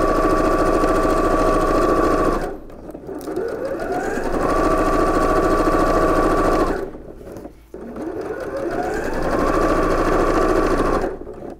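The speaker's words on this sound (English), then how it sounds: "you can backstitch across this entire strap just to give it a little bit more security" Sewing machine backstitching across an apron strap, a loud continuous mechanical whir that briefly stops and restarts twice as the stitching direction changes, close and alone.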